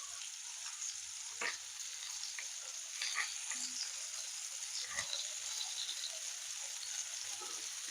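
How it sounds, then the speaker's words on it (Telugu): Mushrooms dropped into hot oil in a pan, a soft continuous frying hiss with a few light taps and knocks, close but fairly quiet, with no talking. "ఇలా ఆయిల్ వేడెక్కాక మష్రూమ్స్ వేసుకుందాం ఇందులోకి"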